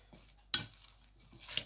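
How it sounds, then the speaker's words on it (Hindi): Chicken is gently mixed into a chicken and egg salad in a bowl, with two faint, sharp clinks of a utensil against the bowl amid near silence. "पहले मैं चिकन को सैलड में आहिस्ता से मिक्स कर लूँगा"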